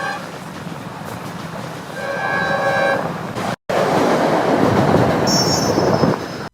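A train on the Rameswaram–Tambaram service near Pamban bridge rolls past loudly, with rail clatter, wheel squeal, a brief tonal horn-like whine early on, a short break, then a sustained close rumble.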